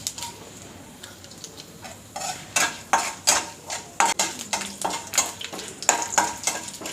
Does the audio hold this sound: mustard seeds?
yes